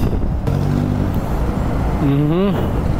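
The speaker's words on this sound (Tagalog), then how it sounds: "Naranasan ko ganitong traffic." Heavy, congested road traffic heard from a motorcycle, a loud steady roadway roar with engine hum, and tonal vocal-like sounds rising briefly above it.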